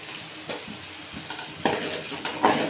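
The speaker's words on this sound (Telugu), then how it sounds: "బాగా మిక్స్ చేయాలి." Curry mixture for Andhra-style pulusu rice being stirred in a pan with a utensil, with soft scraping strokes over a low sizzle, louder scrapes coming near the end.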